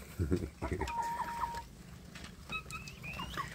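Free-range kampung chickens, young birds nearly grown along with a mother hen, clucking and calling at moderate distance on a farm, scattered calls over a low background murmur.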